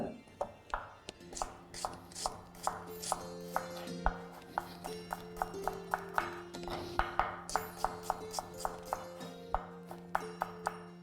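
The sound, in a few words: knife chopping onions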